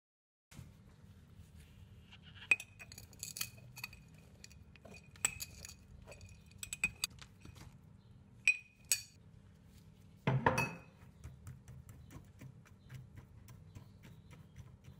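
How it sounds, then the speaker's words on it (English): Glass jars are emptied and mycelium blocks broken up and mixed, with scattered light clinks and taps of glass, then a short rough burst of crumbling and shaking, all close and fairly quiet. "As we empty the jars, we need to break up the mycelium blocks and mix them evenly."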